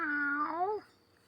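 A single cat meows alone, one clear drawn-out cry that rises and then bends downward before fading, fairly close with a quiet background.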